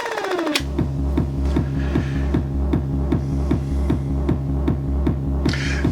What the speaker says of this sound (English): But my favourite obviously is backspin.